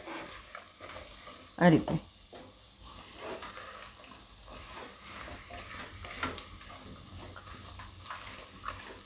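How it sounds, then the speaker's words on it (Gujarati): Potatoes stirred into onions in a pan for a Gujarati onion-potato shaak, with soft scraping and a low sizzle, a sharper clatter early on, and a brief voice speaking. "હવે આપણે એમાં બટેટા નાખી દઉં ને મિક્સ કરી લઉં"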